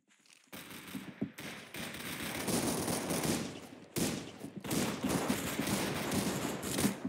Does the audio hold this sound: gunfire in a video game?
yes